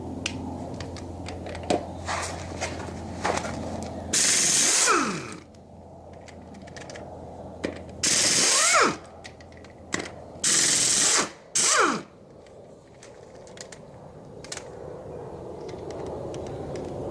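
A ratchet and power tool work on the wheels of a 2012 Jeep JK. Loud bursts of buzzing fastening come in short runs, separated by quieter clicks and handling noises.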